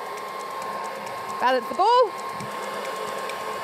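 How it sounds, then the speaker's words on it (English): A hairdryer blows a steady stream of air during a live space science show, a constant hum throughout while a person briefly speaks over it. "All right, hairdryer on."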